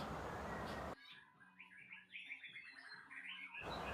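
Oriental magpie-robin (murai batu) fledgling chirping in a quiet room, a run of soft, rapid high peeps and short twitters lasting a few seconds, framed by louder broadband noise before and after.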